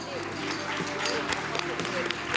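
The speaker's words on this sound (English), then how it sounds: "Can you please have a huge round of applause?" A school audience at an ICSE prize distribution ceremony claps for award-winning students, a fairly faint, steady patter of applause mixed with background murmur and voices throughout.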